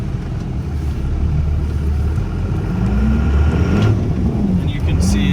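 A 2001 stacked Cummins diesel truck rumbles close in neutral and 4 low, its engine drone rising and wavering as someone talks over it.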